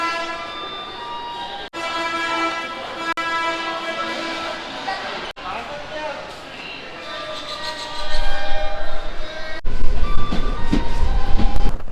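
Shalimar Express at Alwar platform, with a train horn sounding in long tones over platform bustle and voices, then heavier rumbling as the train gets underway.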